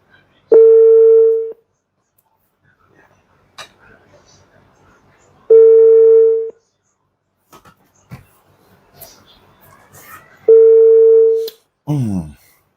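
A telephone gives three long, loud, steady tones spaced about five seconds apart, with voices speaking quietly between them.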